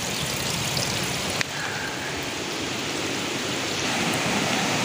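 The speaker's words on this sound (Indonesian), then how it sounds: "Ini ada air. Tuh. Airnya mengalir deras." Swift water rushes past a bridge construction site as a dense, continuous roar that stays steady throughout, with no voices over it.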